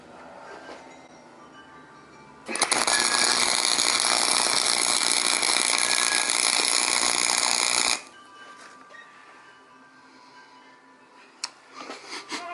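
Gate wheel cover being welded in a steady, loud, harsh crackling buzz that runs unbroken for about five seconds and then cuts off, with quiet workshop ambience before and after.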